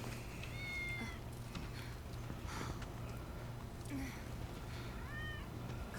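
Cats meow in Final Fantasy VII Remake, a few soft, high, drawn-out mews spread across the stretch over a steady low background hum, with no talk.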